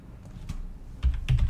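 A computer keyboard clicks as a terminal command is typed, a handful of soft, close keystrokes in a brief irregular run.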